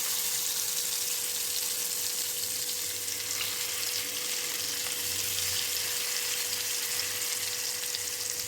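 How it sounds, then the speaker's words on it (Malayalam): Fish frying in hot oil in a pan, a steady loud crackling sizzle that holds unbroken throughout, close up and with no speech. "ഇങ്ങനെ നമ്മൾ ആ എണ്ണയിൽ മീൻ ഇടുന്ന സമയത്ത് ഇങ്ങനെ ഒന്ന് അനക്കിയിട്ട് ഇട്ട് കൊടുക്കുക കേട്ടോ."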